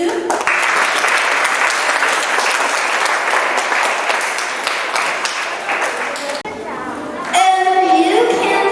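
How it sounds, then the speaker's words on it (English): Audience applause in a school assembly hall for grade 2 students at an international school, loud sustained clapping for about six seconds, then fading as children's voices and chatter take over at the end. "can we give a big round of applause to the grade 2?"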